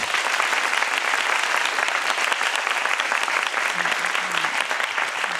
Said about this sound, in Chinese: 给同学呢给自己一个掌声鼓励。